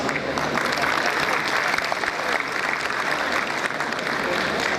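A large convocation audience applauds staff and ushers, continuous dense clapping that holds at an even level throughout.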